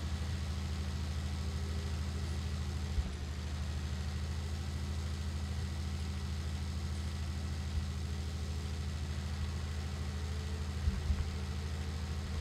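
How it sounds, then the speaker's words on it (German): A tractor engine in Landwirtschafts-Simulator 19 idles steadily at a low, even rumble, fairly quiet and unbroken, with a couple of faint clicks. "Einsteigen, Motor an."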